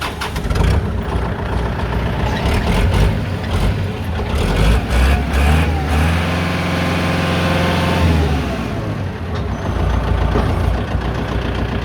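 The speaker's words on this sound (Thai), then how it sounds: "เดี๋ยวเราลองมาฟังเสียงเครื่องยนต์ สตาร์ทเครื่องยนต์ดูนะครับ" A 2015 Kubota L4708SP four-wheel-drive tractor's diesel engine cranks and catches, then runs with a heavy, rumbling idle that revs up and settles, loud and close.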